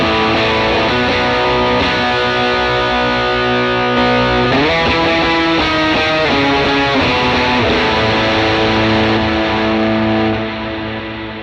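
Distorted electric guitar lead through a Fractal Axe-FX III with solo volume boost, delay and a huge black hole reverb, playing loud sustained bends and held notes that swell and trail into a long wash.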